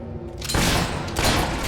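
A quick volley of gunshots in the Fable 3 video game, close, sharp blasts in rapid succession with a short reverberant tail and no talking.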